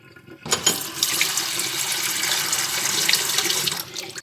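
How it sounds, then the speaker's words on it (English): Cold water runs from a kitchen tap into a cooking pan, a steady close rush that starts abruptly and holds evenly for several seconds before cutting off. "fill the pan up with cold water"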